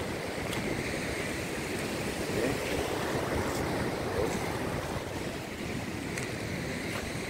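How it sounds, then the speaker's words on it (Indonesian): Ocean waves at Ujung Kulon beach in Pandeglang, Banten, during a rising tide, with a steady loud surf wash and wind buffeting the microphone throughout, no voices. "Ini ombaknya lagi, wow"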